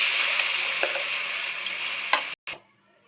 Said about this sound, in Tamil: இப்போ ஆயில் சூடாகிடுச்சு. நம்ம அரைச்சி வச்ச பேஸ்ட்டை நம்ம இதை போட்டுடலாம்.